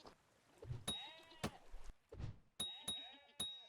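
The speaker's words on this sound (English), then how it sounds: "There's some goats down there." Goats in a hard block-building video game bleat in several short, bright calls, some overlapping, with a few sharp chime-like pings between them and no talking.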